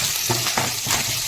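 Tempering spices, cumin and asafoetida, crackle and sizzle in a little hot oil for sambar, a steady close hiss with a few sharper pops and stirring.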